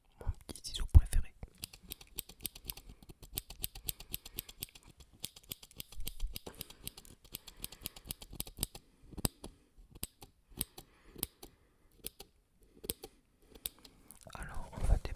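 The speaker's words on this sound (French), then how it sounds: "voilà un petit peu mon petit ciseau préféré." A small pair of favorite scissors snips and clicks in quick, crisp bursts while an unboxing goes on, with soft whispering nearby.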